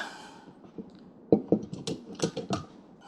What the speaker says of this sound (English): Quick clamp.